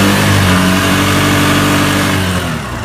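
A Honda Activa 125 scooter engine revving loudly and close, a sustained buzzing drone held at high revs that eases off slightly near the end, with no voices.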